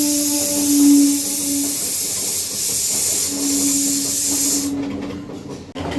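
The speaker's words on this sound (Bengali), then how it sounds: "কীরকম লম্বা সিটিগুলো পড়ছে" A pressure cooker cooking chicken soup vents a long, steady hissing whistle that carries loudly for several seconds, then cuts off near the end.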